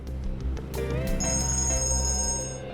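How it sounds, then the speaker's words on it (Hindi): A phone rings with a steady, bright electronic tone over a low hum, continuing for a few seconds. "एक मिनट, फोन आ रहा है।"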